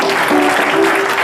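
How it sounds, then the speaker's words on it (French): An audience at a spiritual concert applauds Sister Rose, a short burst of dense, loud clapping with a faint voice underneath. "Je vous demande d'applaudir"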